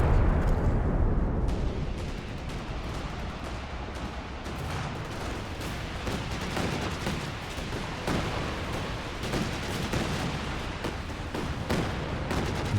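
An artillery barrage in a World War II strategy game rumbles on without a break: dense, loud booms and crackling blasts layered over a deep roar, with sharper impacts scattered throughout.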